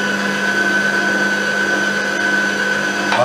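A kitchen food processor whirs steadily as it mixes eggs beaten until pale with milk for a Malaga cake batter. Its motor drones as one continuous, fairly loud tone, with no talking over it.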